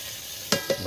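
Tomatoes dropped into a hot pan of frying baingan bharta, giving a steady sizzle with two sharper bursts as they land and get stirred, close and without talk.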